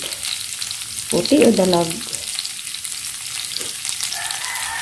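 White onion frying in a pan gives a steady low sizzle, with a brief louder burst of stirring and a short spoken question over it.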